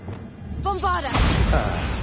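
A Bombarda spell in a video game blasts apart a barrier, a brief tonal whoosh swelling into a loud rumbling explosion that fills the second half.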